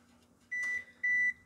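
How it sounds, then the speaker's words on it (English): An oven beeps twice while preheating, two short, clear electronic tones over a quiet kitchen hum. "Sorry about that beep. That's the oven preheating for something else I'm making."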